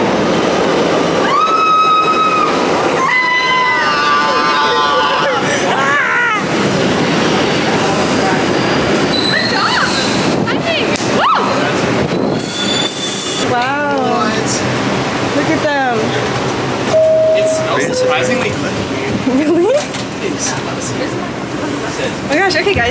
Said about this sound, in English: they made it on their first subway.